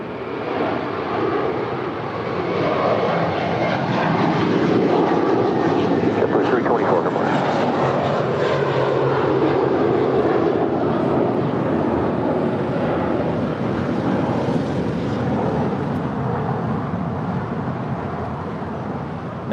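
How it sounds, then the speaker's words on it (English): An Asiana Airlines Airbus A350-900, Flight 202 from Seoul, lands on runway 24 right at LAX with a steady, loud, broadband jet roar that swells and holds for the whole stretch, mixed with some wind buffeting. "That A350-900 about to touch down at 24 right there on the north side."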